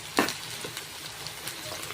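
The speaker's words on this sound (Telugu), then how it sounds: "సో నేను ఇప్పుడు ఆనియన్స్ వేస్తున్నాను" Onions go into a pan of hot oil for a raw mango fish curry, starting with a brief loud sizzle and settling into a soft, steady frying hiss with faint stirring, close by.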